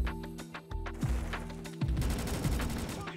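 Rapid gunfire from a gun shot from the hip in the Roblox shooter Recoil, several dense bursts of loud cracking shots with brief gaps between them, close and punchy.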